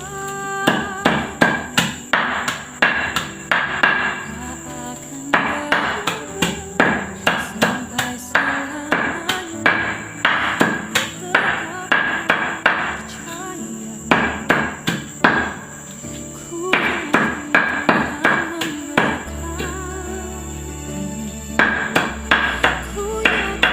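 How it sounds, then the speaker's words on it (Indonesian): Leaves being chopped finely with a parang machete for homemade organic pesticide, sharp rapid thwacks in fast repeated bursts with short breaks, close and loud. "Daun ini ya kita cencang halus ya, seperti ini."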